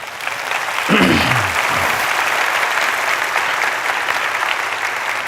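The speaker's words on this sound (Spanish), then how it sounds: "dale a la palabra un aplauso" An audience applauds at a church service, steady clapping rising quickly and continuing at a fairly even level, with a brief sliding tone near the start.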